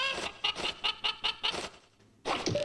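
A Cucco chicken in the Zelda 64 game Time Lost clucks in a quick run of about six sharp squawks, then pauses before another loud cluck, close and alone with no talk.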